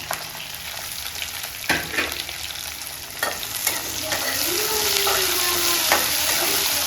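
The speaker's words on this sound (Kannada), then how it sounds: "ಚೆನ್ನಾಗಿ ಫ್ರೈ ಆಗಬೇಕು ಇದೆಲ್ಲ" Green chillies and curry leaves fry in oil in a pan for a mixed greens palya, giving a steady close sizzle that swells louder in the second half, with a few stirring scrapes along the way.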